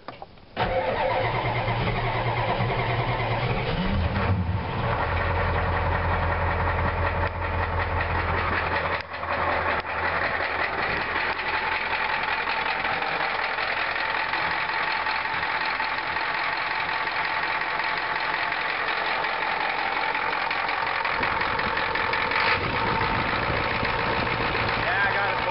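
A cold diesel engine with a DB2 injection pump cranks and starts, then settles into a steady, loud, rough idle that continues for over twenty seconds.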